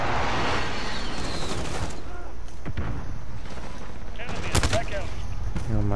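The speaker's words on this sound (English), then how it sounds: "Allied precision airstrike in." A precision airstrike in a shooter video game, heard as a barrage of loud booming blasts and rattling gunfire layered over constant battle noise, with a sharp burst of impacts near the end.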